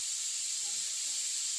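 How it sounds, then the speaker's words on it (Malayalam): Steam hisses steadily from a pressure cooker as buffalo meat cooks, a constant faint high hiss with a few soft low knocks underneath. "ഇപ്പോൾ ആവി വന്നു തുടങ്ങിയിട്ടുണ്ട്."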